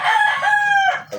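A red-bodied sweater gamefowl rooster with red-orange hackles gives one loud, close cock-a-doodle-doo, rising and held before breaking off, followed by a short final note.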